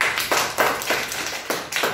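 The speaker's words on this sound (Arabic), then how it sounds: "يلا همام صفقوا له" Children in a classroom clapping for a pupil, a quick steady run of about eight claps, close and fairly loud.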